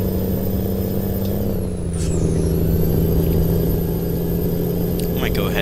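Kenworth K100 truck with a 550 Caterpillar engine in American Truck Simulator, a steady low diesel drone with a sharp air-brake hiss partway through, and brief clicks near the end.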